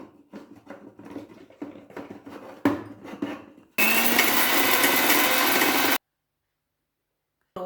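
A kitchen mixer grinder crushes dried chillies, garlic, asafoetida and tamarind, first with short knocking pulses, then with a loud, continuous grinding roar for about two seconds before it cuts off abruptly.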